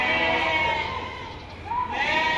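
Goats bleating at the Deonar livestock market, loud close wavering cries, one long bleat then another rising near the end.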